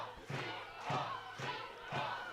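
Spectators at a women's rugby test match in Switzerland chant in rhythmic bursts, about four evenly spaced crowd shouts, moderately distant and fairly quiet.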